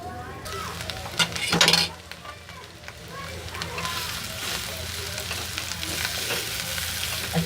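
Mashed potatoes for aloo paratha filling sizzle as they are stirred and fried in a pan, with scraping stirs, a brief loud clatter early on and a steady hiss throughout.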